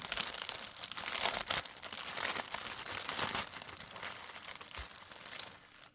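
Thin plastic crinkles and crackles continuously for about six seconds as a small gift bag is opened up close, with denser bursts early on and a gradual fade toward the end; no one speaks.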